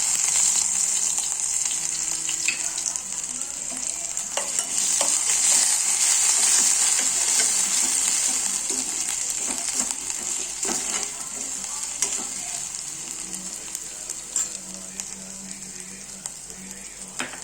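Red and green chillies fry with ginger-garlic paste for a sweet corn soup, giving a bright steady sizzle with occasional clinks and scrapes of a spoon against the pan, close and continuous without speech.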